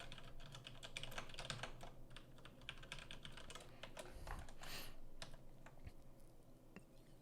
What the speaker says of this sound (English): I'm just typing up right now that people need to come watch the debate live.